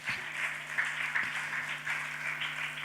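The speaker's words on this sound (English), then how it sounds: "Please give our panelists a big round of applause" Audience applause for the panelists at the close of a BrandZ India brand panel session: steady, dense clapping from a crowd, continuing evenly for about three seconds over a faint low hum.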